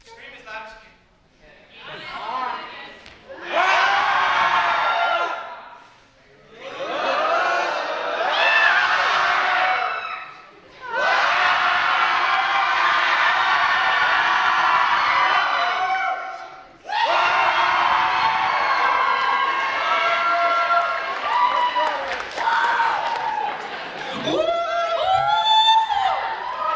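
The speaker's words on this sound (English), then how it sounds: "When I put it all the way up, scream as loud as you can." A crowd at a high school Mr. & Miss pageant screams and cheers in loud bursts on cue, rising and cutting off several times in a row with short quiet gaps between, whoops and shrieks piercing the roar, heard up close.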